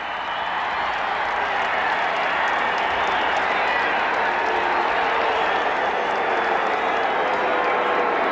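A capacity stadium crowd at a 1986 Raiders-Broncos football game roars steadily after a blocked Raiders field goal, a dense, sustained wall of cheering and applause that holds at full volume throughout.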